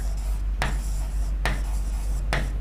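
Chalk scratches across a classroom blackboard in three short bursts, separated by pauses, close and fairly loud, with a steady low hum underneath.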